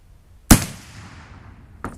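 A .308 rifle firing black powder ammunition lets off a single sharp, loud shot with a long decaying rumble, followed by a fainter second report near the end.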